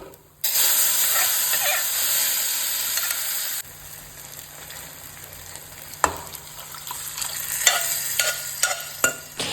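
Curry leaves and asafoetida hiss and sizzle in hot oil in a pan for a Goan coconut dal, with a loud burst of frying that settles into softer crackling and a few sharp stirring scrapes.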